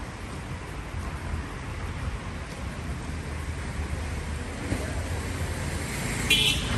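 Cars pass along a road at night, a steady roadway rumble and hiss with a brief toot near the end, heard from close by without voices.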